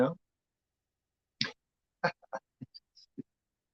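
A man in the 1982 film The New York Ripper imitates a duck, giving a string of short, clipped quacking bursts of varying pitch separated by silence, after an opening vocal sound.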